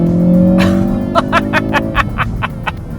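A 2016 Ford Focus RS at wide open throttle: a loud, steady engine drone for the first second or so, then a series of rapid sharp pops and crackles spaced across the rest of the clip.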